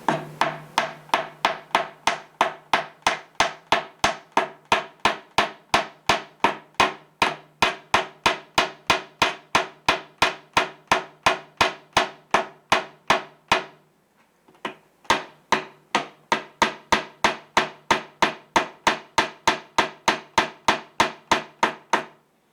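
Rapid, regular metallic taps of pliers used as a hammer, tapping a part into a hole in a steady series, a brief pause midway, then the tapping resumes at the same even rhythm.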